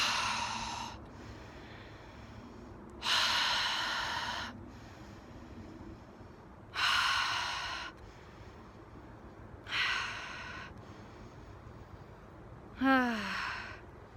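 Slow, deep breaths drawn and released as part of a breathing exercise, four long airy exhalations spaced evenly apart and heard up close, ending with a short sharp intake, with no talking.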